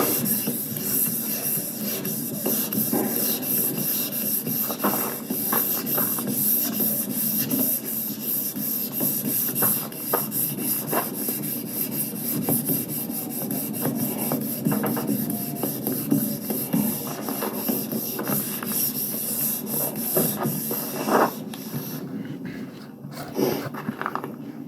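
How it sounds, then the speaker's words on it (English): Block sander rasping steadily across car body primer as the final cut before paint, a continuous close scratchy rubbing with small rhythmic variations, dropping off briefly near the end. "it's always much better to do as I'm doing with a block sander as opposed to by hand on the final cut for the primer"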